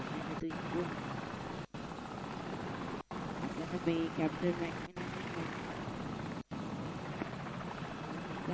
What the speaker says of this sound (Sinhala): හෙලිකොප්ටර් එකක් ඇවිල්ලා යාළුවනේ අපේ හතුරුන්ගේ දැන් චෙක් කරගෙන යනවා වටේ